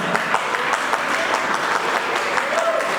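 Warm applause from a family gathering for grandfather Yurik, steady dense clapping throughout with voices mixed into the crowd noise.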